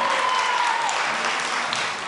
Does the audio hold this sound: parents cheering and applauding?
yes